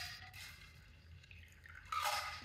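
Ice water being dumped out of coupe glasses: quiet drips and a short splash, then a louder pour toward the end, along with faint clinks of glass, close and soft, with no speech.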